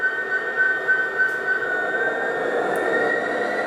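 MTH G scale Union Pacific/Southern Pacific heritage SD70ACe model diesel locomotive creeping at its lowest speed step, giving a steady motor hum and whine with faint rolling noise on the track, close and continuous.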